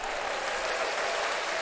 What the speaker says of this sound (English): I want to give a round of applause to everybody that joined today.